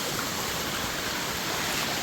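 A small waterfall in a village stream in Malappuram, where stones have been stacked to divert the flow, gives a steady, broad rush of falling water that stays even and close throughout, with no voices.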